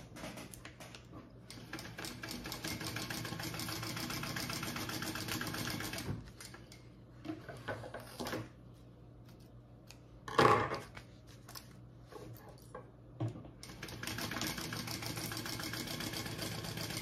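A sewing machine stitches bag seams along the edges, running in long steady whirring bursts with brief pauses between them and a small clunk near the middle, quiet and close, with no talk.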